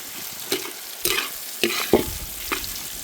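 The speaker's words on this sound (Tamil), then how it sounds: "இந்த எண்ணெயிலே இந்த மாங்காய் கொஞ்சம் வேகணும்ண்ணா" Mango pieces frying in hot oil for mango thokku, with a steady sizzle broken by repeated scraping strokes of a ladle stirring the pan every half second or so, close up and without talking.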